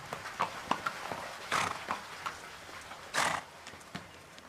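A horse's hooves clop on a hard floor indoors in a scene of Soto riding in to challenge the Inca ruler Atahualpa. Scattered sharp hoof strikes come at an uneven pace, with two louder scuffing bursts.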